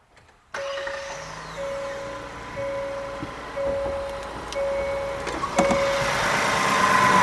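A Hyundai Palisade engine starts up and keeps running at a steady idle. Its drone rises a little over several seconds, mixed with electronic chimes and whirring from the vehicle. No one speaks.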